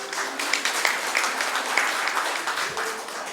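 Audience applause at a national seminar on narcotics and psychotropics law enforcement, moderately loud, steady and continuous for several seconds with no talk over it.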